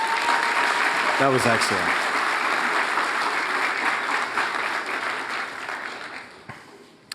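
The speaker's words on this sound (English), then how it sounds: "How about another round of applause?" Loud, sustained applause from the audience at a high school equivalency commencement ceremony, a continuous clapping wash that gradually fades toward the end, with a brief spoken remark over it early on.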